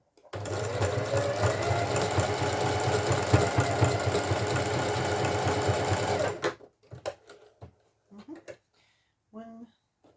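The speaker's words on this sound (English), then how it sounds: "I'm going to set up my zigzag stitch, just a zigzag, and I'm going to pop along all of these" A sewing machine runs steadily for about six seconds, stitching a zigzag seam along a boxy zipped pouch, then stops, leaving brief fabric handling noises and a short bit of talk.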